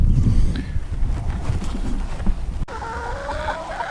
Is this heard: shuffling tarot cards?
no